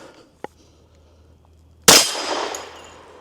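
A single loud, close gunshot from a 460 Rowland handload with a 200 gr Speer Gold Dot bullet cracks out after a faint click, then rings and decays briefly at an outdoor range.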